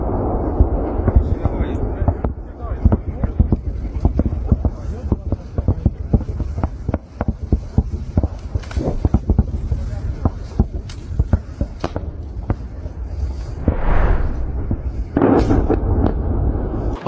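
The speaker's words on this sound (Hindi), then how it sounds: "उसके बाद रशिया ने यूक्रेन की फोर्स के ऊपर बमबारी की है" Heavy bombardment during a Russian attack on Ukrainian forces produces a dense, continuous barrage of sharp blasts and rumbling booms, with irregular overlapping impacts that stay loud throughout.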